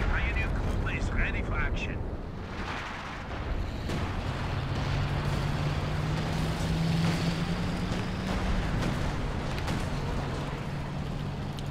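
Artillery shells and rocket barrages burst in a Company of Heroes 2 3v3 match, a dense, continuous rumble of blasts with a low droning engine tone beneath, while a commentator talks over the battle.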